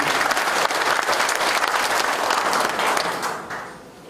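A studio-free hall audience gives sustained applause for the Icheon mayor at the 2024 Icheon livestock cooperative headquarters completion ceremony, a dense steady wash of clapping that fades out near the end.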